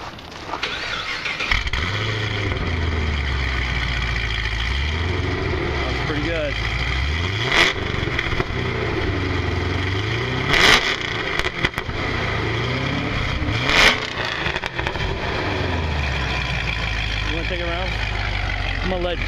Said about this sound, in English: I'll let you hear this car in action going down the road.